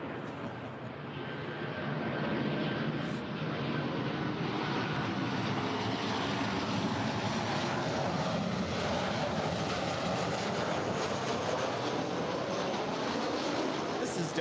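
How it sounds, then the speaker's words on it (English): A three-year-old Delta Boeing 737-900ER jet on approach to land at LAX rises from quiet into a sustained, loud engine roar that stays constant for the rest of the stretch, with no talking. "This is Delta Airlines Flight 896 coming in from Seattle. It's a 3-year-old Boeing 737-900ER."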